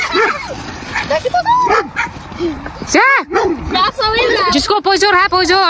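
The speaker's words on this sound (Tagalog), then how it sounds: "Ayan ang aso nila oh. Tahol ng tahol kanina ba?" A dog in a muddy village yard yelps and barks near a group of people, its calls mixed with excited talking and shouting throughout.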